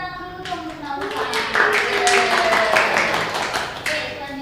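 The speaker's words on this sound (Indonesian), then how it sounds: "Tepuk tangan dulu dong untuk Nausan." A small classroom group clapping for a student during a Japanese-language micro-teaching lesson, a brief burst of many hands that swells and then thins, with children's voices mixed in.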